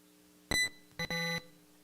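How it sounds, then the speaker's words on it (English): Two short electronic tones sound in quick succession, the second longer and held, like a quiz buzzer against near silence. "At the buzzer, Declan Barry, Sayre."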